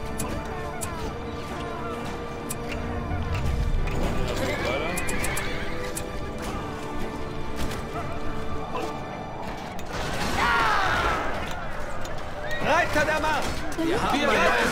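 Horses in a Battle for Middle-earth battle neigh and whinny loudly, with galloping clip-clop hooves and clanking mechanisms, over a dense game soundscape with voices shouting.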